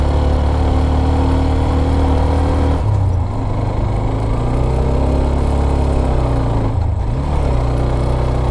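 A motorcycle engine labours up a very steep hill in low gear on the road to Jhalong Bindu near the Bhutan border, a loud, close, continuous drone that dips and strains in pitch twice, with no talk.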